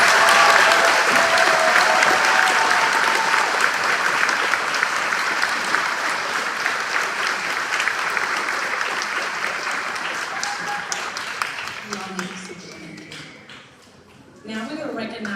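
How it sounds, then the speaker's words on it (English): A crowd claps loudly and steadily for fourth-grade students at an elementary school celebration, with the applause slowly fading toward the end before voices and a few scattered claps take over. "Can we please give them a round of applause?"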